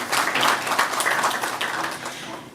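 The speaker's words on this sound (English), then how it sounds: "We can give him a round of applause." An audience at a ZB Financial Holdings analyst briefing gives a steady round of applause for the chief executive, moderately loud and continuous for a few seconds.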